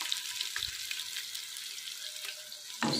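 Beef added to a hot karahi for beef karahi gosht: steady sizzling and frying, a continuous crackly hiss with a few soft clinks and a louder burst near the end.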